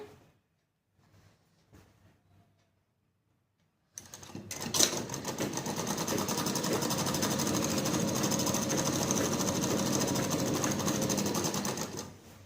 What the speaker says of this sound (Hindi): अब मैं इसको सीधी सिलाई लगा दूंगी